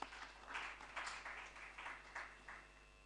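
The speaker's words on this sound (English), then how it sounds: "Let us give him another round of applause" A faint audience at a provincial partnership roadshow gives a presenter a round of applause, the soft, distant clapping rising and falling in several small swells over about three seconds, with no voices.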